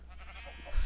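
A sheep bleats in Minecraft, a short, fairly faint bleat that swells louder toward the end over a low background hum.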